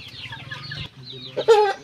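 A young naked-heel gamefowl rooster (stag) clucks close by in a short burst, a few soft low calls ending in a louder, sharper squawk, with no talk over it.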